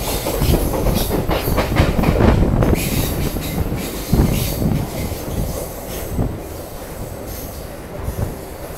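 A local train runs on the Karjat to Khopoli line, loud and close, with continuous rumble, clickety-clack of wheels over rail joints and squealing wheels on curves, the noise easing slightly toward the end.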